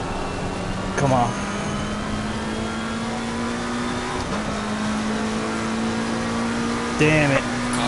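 Race car engine in Assetto Corsa Competizione at Brands Hatch, a steady droning hum leaving the pits, with brief bursts of revving near the start and end while a voice talks over it.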